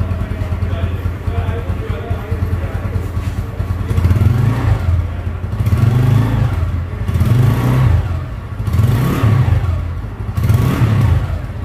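A TVS Apache motorcycle runs after an engine overhaul, idling with rhythmic pulses and repeated rising revs, close and loud, while someone talks over it.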